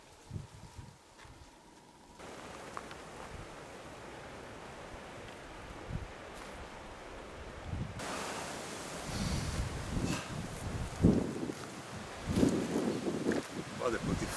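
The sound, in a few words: strong wind blowing outdoors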